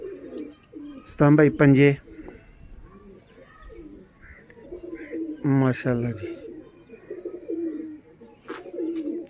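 Black pigeons (zaakh or kamagar kabootar) coo close by in two short bursts of throaty, bubbling calls, with someone talking between and over them.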